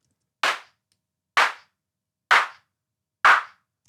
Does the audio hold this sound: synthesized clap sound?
yes